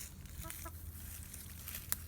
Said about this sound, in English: Chickens are thinking I'm bringing them some food, but I'm not.